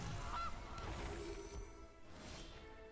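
Goose honk sound effect from the Gilded Goose card in the MTG Arena digital card game, a short nasal honk followed by a crunchy impact-like game effect against a soft background.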